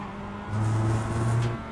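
Mazda MX5 in the iRacing sim at Oulton Park, braking hard and then back on the gas with the tyres over a rumble strip: a steady engine drone that rises in pitch and strength, alone and close.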